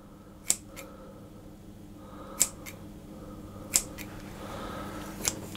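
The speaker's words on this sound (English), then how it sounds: "I'm going to cut across into the top like that, maybe a little bit bigger, and cut it here as well." Knife or scissors cutting across the top of a Czech Easter bread (mazanec) dough loaf, four short crisp snips spaced a second or two apart over a quiet room hum.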